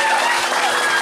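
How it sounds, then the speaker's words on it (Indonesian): A short burst of audience applause at a Balinese prembon comedy show at Pura Sakenan temple, a dense, even wash of clapping from a crowd. "Tepuk tangan dong sareng-sareng."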